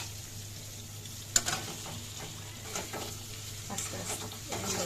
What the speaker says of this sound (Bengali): এই কড়াইটায় দিচ্ছি, তাড়াতাড়ি গরম হয়। ডিমটি ডাইলা দিয়ে দিই